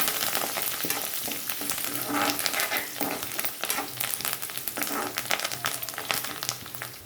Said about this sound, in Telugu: ఇది బాగా వేయాలి పోపు